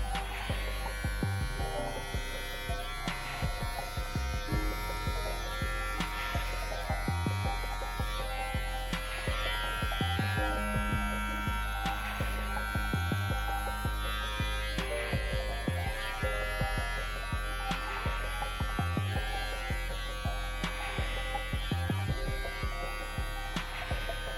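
A Brio cordless beard trimmer running on its highest setting, buzzing steadily and loudly up close for the whole stretch, with small dips in the drone as it moves through the beard.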